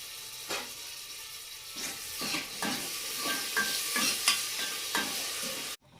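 Chopped onion and tomato sautéed in a pan for a Bhogi mixed vegetable dish, with a steady close sizzle and repeated scraping stirs of a spatula throughout, ending abruptly.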